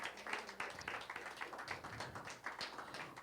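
A church congregation at a seminar clapping their hands, a dense run of quick, fairly faint claps with an uneven rhythm, heard from a distance.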